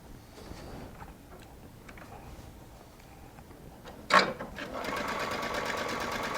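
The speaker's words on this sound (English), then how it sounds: "I'm going to sew this down." A Baby Lock Altair sewing machine sewing down bias binding starts up after a quiet stretch and a sharp click, then runs as a steady, close, fast mechanical rattle that continues to the end.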